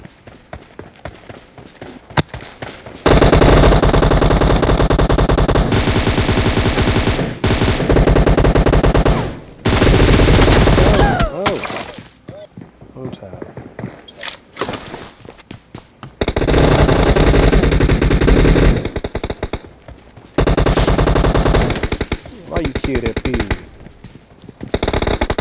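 Loud sustained automatic-weapon bursts fill a video game team deathmatch, long rattling volleys broken by brief pauses and quieter stretches of footsteps and scattered shots.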